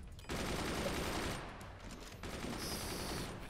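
Miniguns in the video game Forts fire a dense, steady stream of rapid gunfire that barely lets up across the whole stretch, with a high whine added toward the end.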